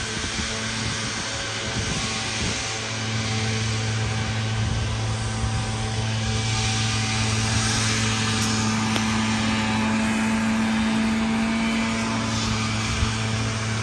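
A loud, steady mechanical drone with a constant hum runs close by for the full length, barely changing in level.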